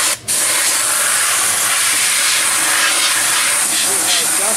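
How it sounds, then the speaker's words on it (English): Air compressor nozzle blowing dust out of a commercial refrigerator coil during annual maintenance: a loud, continuous broadband hiss close to the mic after a brief opening gap. "I've got my air compressor here ready to go."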